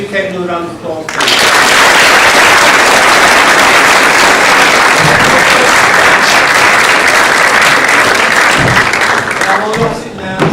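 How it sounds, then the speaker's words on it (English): At a Year 11 leavers' assembly, a crowd bursts into loud, sustained applause for an award recipient, the dense clapping running for about nine seconds between a brief spoken voice at the start and another at the end. "Can we give Kate another round of applause, please?"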